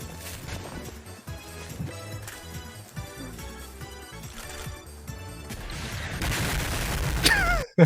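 Rapid bursts of rocket-launcher fire and explosions from the Penguin rocket launcher in Palworld, a dense run of loud blasts and crashes building toward the end, with a sharp final impact.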